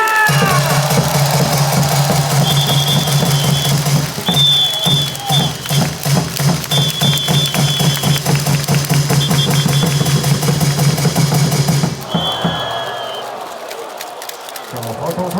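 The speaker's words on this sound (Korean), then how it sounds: "다시 강하시관용 선수에게 응원의 박수와 함성을 한 주십시오!" A packed stadium crowd at a Lotte–Hanwha baseball game at Sajik claps and cheers loudly and steadily for about twelve seconds over a low droning hum, then the noise drops off sharply.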